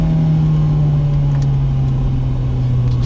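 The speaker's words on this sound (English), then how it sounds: "this engine just likes to rev" A BMW E30 M3's naturally aspirated 2.3 litre four-cylinder engine, 190 horsepower, drones loud and close from inside the car, holding a steady strained note under the engine noise.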